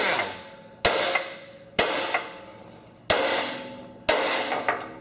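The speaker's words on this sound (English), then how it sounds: "I take a center punch and I go around and divot that race" A hammer strikes a center punch to divot a mower deck spindle bearing race, making four sharp, ringing metallic blows at roughly one-second intervals, each with a short decaying ring, loud and close.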